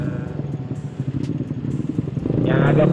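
A modified Yamaha Mio motorcycle engine, one that will not yet idle properly, runs with quick uneven low pulses that swell into a louder, rougher note near the end, heard under someone speaking.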